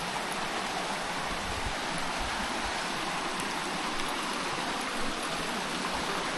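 A West Virginia mountain stream rushes nearby, its dense, even hiss of running water steady and unbroken with no voices.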